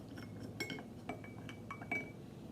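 Glass containers of colored water, one tinted with red food coloring, clink and tap softly as the contents are stirred together, several light scattered knocks over a quiet background.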